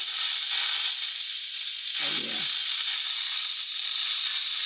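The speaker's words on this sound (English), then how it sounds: "But I'm releasing the steam." An Instant Pot pressure cooker venting steam, a loud continuous close hiss that fills the whole stretch, with someone briefly speaking partway through.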